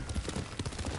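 Horse hooves gallop in the video game Ghost of Tsushima, a quick, rolling clip-clop beat, close and steady, over a brief second of busy ambient game sound.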